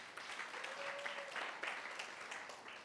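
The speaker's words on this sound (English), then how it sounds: "a warm round of applause to them" Applause at a student gala dinner for a newly sworn-in student council, a steady, fairly distant round of clapping that carries on for a few seconds without talk.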